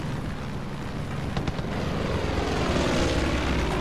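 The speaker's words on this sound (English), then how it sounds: "I have lost visual contact with the airplane, dude." Airplane flying in Far Cry 5, a broad roaring engine drone that swells gradually louder over the few seconds, close and continuous with no talk.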